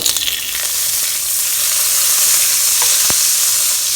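Thirty grams of unsalted butter melting in a hot, oiled pan for garlic butter shrimp. It gives a loud, continuous close sizzle with a few stirring clicks and no talking.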